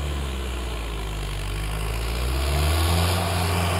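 A Mahindra 555 tractor engine drones steadily and loudly while pulling a plough across a farm field. The deep, constant rumble builds slightly near the end.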